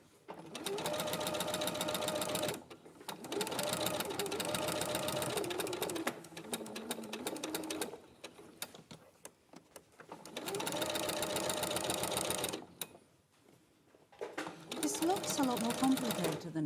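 Sewing machine stitching down into the corner of a fabric seam, steady fast whirring runs of stitching in several bursts separated by short pauses, with people talking in between.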